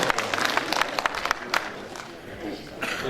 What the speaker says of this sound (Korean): 박수 많이 나오세요.